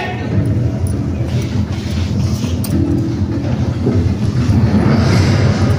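A train sound effect plays loudly in a stage drama about the Kakori train robbery, a steady rumbling roll with faint rhythmic clatter that continues throughout.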